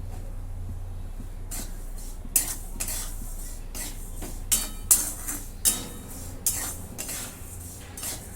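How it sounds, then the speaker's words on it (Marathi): Peanuts roasting in hot salt in a pan over a low flame, stirred with a ladle that rattles and scrapes in repeated bursts over a low steady hum, close and without talking. "आता भाजून घेते असं बारीक गॅसवरती मी भाजून घेतलेले आहे शेंगदाणे"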